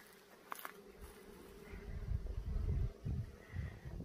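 Honeybees buzzing around an opened hive at a forest cabin during a honey harvest, a steady low drone that swells and fades as bees pass close by, with faint handling noises.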